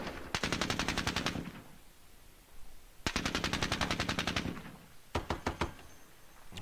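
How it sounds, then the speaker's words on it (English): Heavy machine gun fire in a Squad Battles war game, set in the Soviet-Afghan War, comes in three loud rapid bursts. The first two run over a second each and the last is shorter, with quiet gaps between them. "He's got those heavy machine guns there."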